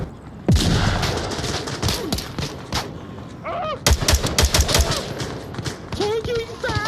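Video game gunfire cracks in rapid bursts and single shots throughout a chaotic battle, with voices talking over the shooting.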